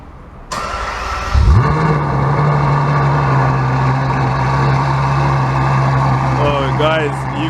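A Ferrari 812 Superfast fires up with a sudden loud starter whir and bark, then settles into a deep, steady, close idle rumble, with a few quick throttle blips near the end and voices speaking over it.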